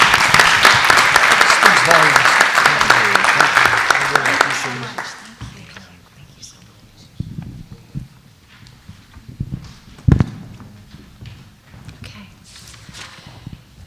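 Applause for award winners at a school district board meeting, a loud burst of clapping for about five seconds that fades out, followed by quieter room noise, scattered knocks and a thump.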